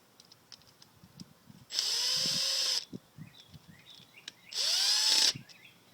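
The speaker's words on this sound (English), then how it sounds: "Put your cover plate back on. Replace the two Phillips screws." A power drill drives Phillips screws into the cover plate of a Yamaha 4x4 servo assembly, giving two loud, close bursts of about a second each, its whine rising as the screws seat, with quiet handling noises between.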